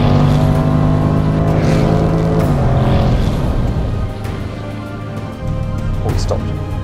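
A Range Rover Sport SVR drag races a BTRC MAN racing truck, with loud, steady engine roar and shifting tones as the vehicles pull away, dipping briefly before surging again.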